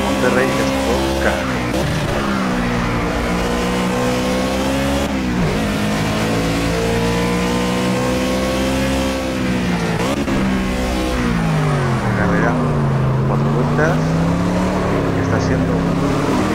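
A Caper Monterrey stock car racing at Sonoma Raceway in Project Cars, its loud engine droning continuously from onboard and rising and falling in pitch through revs and gear shifts.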